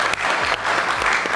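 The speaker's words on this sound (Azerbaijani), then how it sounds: "Gəlin alqışlayaq." A studio audience claps steadily in a comedy show setting, a dense, even burst of applause with a few louder individual claps standing out.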